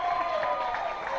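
Football crowd at a South Bendigo versus Sandhurst match roaring and cheering after a successful goal kick, a sustained dense wash of voices and applause at moderate distance.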